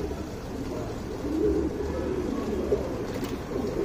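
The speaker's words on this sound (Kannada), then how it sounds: "ಇದು ಚಪ್ಪರ್ ಮಕ್ಷಿ ಗಂಡು" A male Chappar Makshi pigeon coos softly in low, murmuring phrases close by, with a steady faint background hum and no talking.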